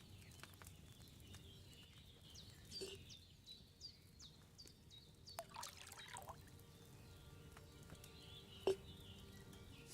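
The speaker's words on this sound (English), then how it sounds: "First, you have to pour the right base into the cauldron." Wine is poured into a cauldron in the Kingdom Come: Deliverance video game, making a brief, faint trickle over quiet ambience with scattered bird chirps.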